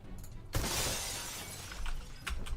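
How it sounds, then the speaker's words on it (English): Glass panel shattering from a single bullet in Fortnite, a sudden bright crash followed by a sustained tinkling spray of shards that fades, then a few smaller clinks near the end. "It takes one bullet to break a glass panel."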